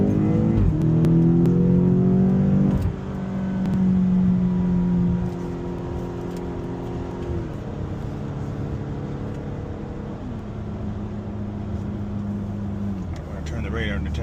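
A BMW X6M with a Valvetronic Designs valved sport exhaust, valves open, hums and rumbles steadily while cruising, with engine tone shifting through gear changes and voices talking over it.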